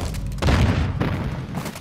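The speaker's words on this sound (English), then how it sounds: "Multiple threats here. I'm taking effective fire." Heavy booming gunfire in the Call of Duty video game, a dense thudding burst of loud, close shots and impacts that swells sharply after a brief lull and rolls on steadily.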